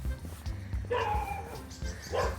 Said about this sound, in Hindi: ये कुत्ते को आवाज़ आ गई